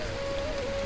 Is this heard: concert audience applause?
no